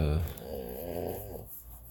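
French bulldog breathing noisily through its nose, a close, snuffling, snore-like rasp that fades out, with a voice speaking over it.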